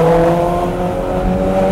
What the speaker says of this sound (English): That gear shift.